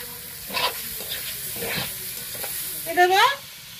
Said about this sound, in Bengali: এখন আমি এর মধ্যে চিকেনগুলো দিয়ে দেবো।